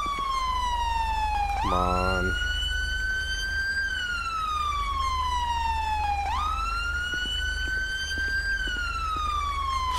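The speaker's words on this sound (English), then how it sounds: "ambulance coming up on scene" Wailing ambulance siren arriving on scene in GTA 5, sweeping up and down in long loud cycles with a brief rapid yelp burst, close and continuous, a voice briefly heard over it.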